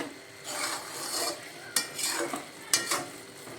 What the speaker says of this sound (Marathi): मध्ये आधी सारखं हलवत राहावा कारण गाजर हलवा तळाला चिकटतो